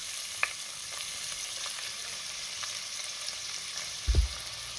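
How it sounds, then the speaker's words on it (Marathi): Onion frying in hot ghee and oil with cumin seeds and whole spices, a steady soft sizzle throughout with a brief louder stir or clatter near the end. "2 मिनिटं आपल्याला कांदा चांगला परतून घ्यायचा आहे"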